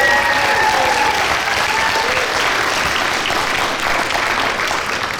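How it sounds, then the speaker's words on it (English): Sustained, loud applause from wedding reception guests for the bride, a dense steady clatter of many hands lasting the whole stretch and fading slightly at the end, with murmurs of talk mixed in. "Round of applause for the bride,"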